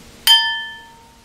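A plastic pen strikes a glass once, giving a sharp clink followed by a clear ringing tone that slowly fades over about a second, alone and close.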